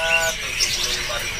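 Jongkangan birds at a Pramuka bird market give rapid high chirps and tweets, bright repeated notes over a busy background hum with a passing car, lasting a brief moment.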